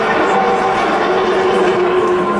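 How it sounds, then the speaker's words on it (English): IndyCar race engines refiring on the grid at Pocono after a red flag stoppage, a loud, steady, dense engine roar that holds without a break. "Engines have refired."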